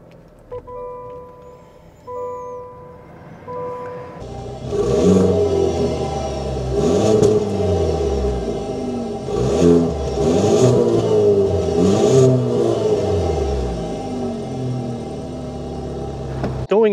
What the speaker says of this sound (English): start up this turbocharge so you can hear that exhaust though